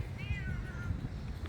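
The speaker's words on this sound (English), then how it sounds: "Kitty cat." A cat on a Bangkok street gives a single drawn-out meow, fairly faint, over a low rumble of traffic and street noise.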